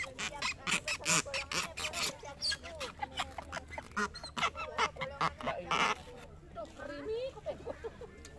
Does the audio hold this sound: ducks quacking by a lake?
yes